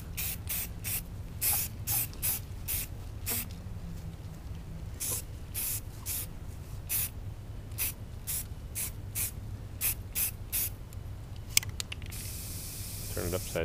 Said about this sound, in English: turn it upside down and spray the paint out of the nozzle.